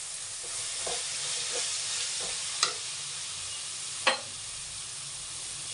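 Brinjal gravy masala with turmeric fries in oil, a soft continuous sizzle broken by a few light spoon scrapes and two sharper clinks against the pan, no talk.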